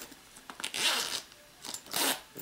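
A zipper on a small fabric pouch holding Vortex makeup brushes is pulled open in two quick rasping strokes, close and crisp, with a short pause between them.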